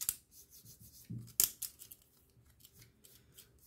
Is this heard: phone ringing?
no